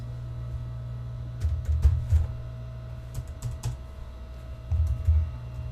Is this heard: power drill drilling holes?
no